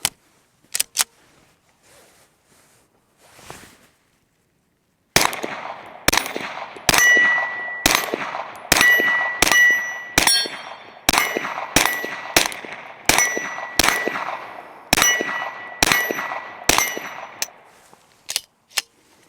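Suppressed pistol firing a magazine of 115 grain rounds at steel targets: a few spaced shots, then a rapid string of roughly fifteen muffled reports, each followed by a bright metallic ring of steel, close and loud with no talk.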